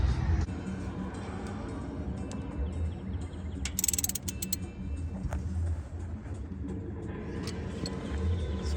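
Black Hawk ratchet clicking in short bursts during a valve adjustment on a race-prepped street car, close up over steady low mechanical rumble, with a brief sharp metallic flurry midway.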